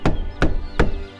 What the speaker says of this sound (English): The wolf knocked on the door